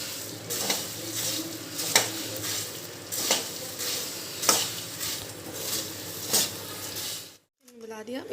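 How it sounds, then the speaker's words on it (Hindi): Bhel puri ingredients being tossed and mixed in a bowl, giving a steady dry rustling and scraping with regular spoon or utensil clinks, fairly close, before a brief pause and a voice at the end. "अब अच्छे से सबको मिक्सअप कर लेंगे हम।"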